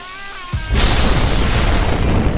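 A cartoon-style explosion sound effect bursts in suddenly after a short rising whistle, then a loud, sustained rumbling roar fills the rest of the moment.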